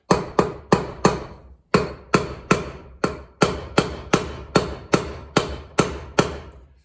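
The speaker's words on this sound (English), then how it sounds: "let's just do some tappy with the hammer here and see if we can get it to break loose first" Hammer blows tapping on a mini bike motor jack shaft to break it loose, about sixteen sharp metallic strikes in a steady rhythm with a brief pause after the fifth, each ringing briefly, close and loud.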